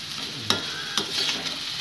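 Beetroot poriyal with grated coconut stirred in a pan, giving two sharp utensil scrapes over a soft steady sizzle, close and moderately quiet.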